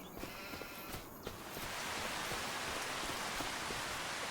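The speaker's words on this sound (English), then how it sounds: "It just started raining." Rain falls in Farming Simulator 25, starting as scattered drops and quickly building into a steady, dense hiss of rainfall on surfaces, fairly soft and continuous with no voices.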